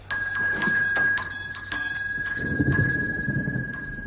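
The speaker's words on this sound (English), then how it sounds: "who's ringing the bell?" Repeated sharp bell strikes ring out over several seconds, each with a bright metallic sustain, while a low rumbling noise builds toward the end.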